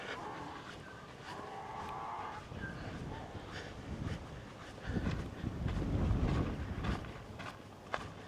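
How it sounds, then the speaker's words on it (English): Steady wind roars and buffets against the microphone on an open, soggy farm campsite, with low rumbling gusts swelling toward the end. "As you can probably hear, it's quite windy."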